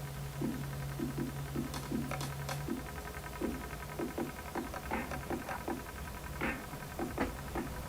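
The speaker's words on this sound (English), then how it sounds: "Yay, rain." Rain patters indoors in irregular soft taps and ticks, close and steady throughout, over a low constant hum with no talking.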